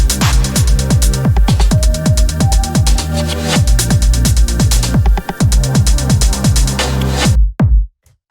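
A strong kick drum sample punches through a dense, busy electronic mix with rapid percussion and tonal layers, thumping repeatedly at a quick steady pace before the track cuts out abruptly at the end.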